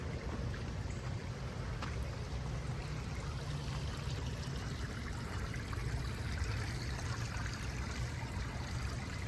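Water trickles gently at a park pond, a soft continuous splashing murmur, faint and steady throughout with no voices.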